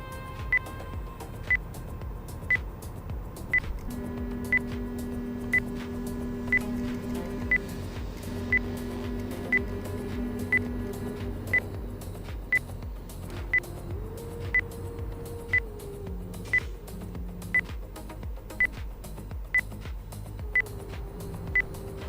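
A truck cab's driver-monitoring system emits short warning beeps at a steady, roughly one-per-second rhythm over a low engine hum and faint music.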